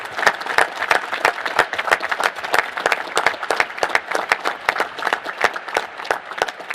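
A large audience at the National Space Council meeting breaks into steady, sustained applause, many hands clapping together at full loudness with no pause for the whole stretch.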